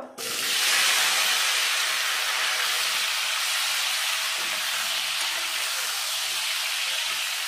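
Fried potatoes and flat beans drop into a hot pan, setting off a strong, even sizzle that begins abruptly and continues steadily with no talk.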